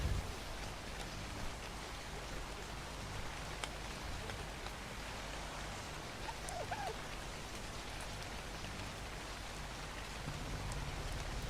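Steady rain falls at night in a video game, a dense, even hiss of drops on surfaces that continues unbroken throughout with no other sounds.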